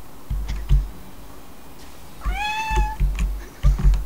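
A house cat lets out one clear meow partway through, close to the microphone, amid soft thumps and handling noises from a room where a Limbo game is being played.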